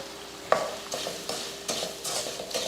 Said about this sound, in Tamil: ரவையை சேர்த்து இது போல் நல்லா அந்த காய் கூட நல்லா கலந்து விட்டுறணும்